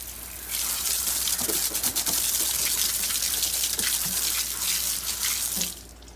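Steady loud gush of water from a hose rinsing a car wheel and tire with its brake caliper, running continuously for several seconds before cutting off near the end.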